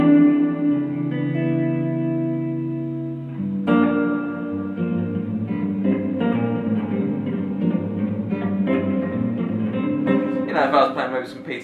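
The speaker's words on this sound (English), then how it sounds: "I've got that going into a very cool TC Electronics reverb pedal" Electric guitar through a TC Electronic reverb pedal plays sustained chords and single notes drenched in spacious reverb, the tones ringing and washing together at a moderate volume.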